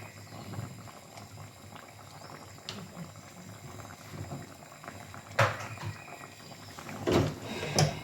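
A stuffed lamb dish simmering in a pot on a gas stove, a steady low bubbling with occasional louder pops and knocks.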